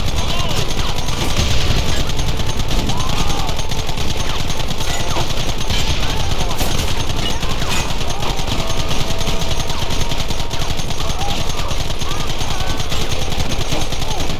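Dense gunfire from a Red Dead Redemption shootout, rapid overlapping rifle and pistol shots crackling nonstop at close range, with voices shouting under the barrage.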